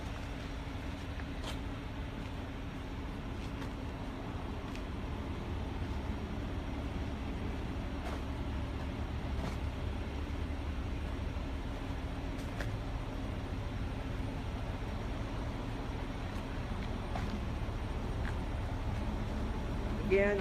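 Steady low rumble of heavy equipment at a rented storage site, a continuous broadband drone with occasional faint clicks, constant and fairly distant throughout.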